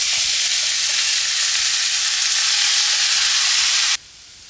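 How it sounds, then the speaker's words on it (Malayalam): Chopped green beans and shallots fry in hot coconut oil in a pan, a loud, steady sizzle running unbroken for about four seconds before cutting off abruptly, with no voices over it. "ഇനിയിപ്പോൾ ഇതാ വഴന്ന ശേഷം നമുക്ക് പയർ നുറുക്കി അടി ചേർക്കാം"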